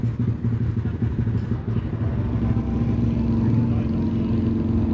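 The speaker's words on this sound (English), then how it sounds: "got to see this dyno action going on over here, making all kinds of good noises. Someone's got a big bike in there." Big motorcycle engine running hard on a dyno inside a trailer at the Barber Small Bore Festival, a loud, steady, throaty drone with a constant mechanical clatter, close and continuous.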